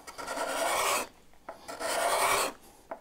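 A cabinet scraper drawn across a wooden board, peeling off shavings in two long rasping strokes of about a second each, close and fairly loud, with a short scrape and a light knock between and after them.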